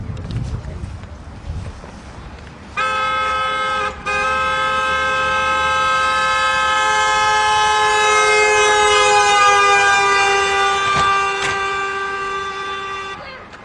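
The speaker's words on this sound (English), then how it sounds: "as the truck drives by the video camera, we can hear the sound of the horn seemingly change" Passing truck sounds a long steady horn blast that holds strong for about ten seconds, its tone sliding slightly in pitch as it goes by, with faint background noise before it begins.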